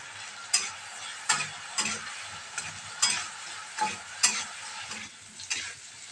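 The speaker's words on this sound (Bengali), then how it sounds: "নুন আর হলুদ দিয়ে আলুটাকে একটু ভাজা ভাজা করে নিই" Potatoes frying with salt and turmeric in a pan: a continuous sizzle broken by regular scraping stirs about once every second, close and moderately loud, with no talk.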